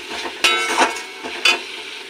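Masala frying in oil in a pan, a steady low sizzle with a few sharp scraping clicks of a stirring spoon against the pan.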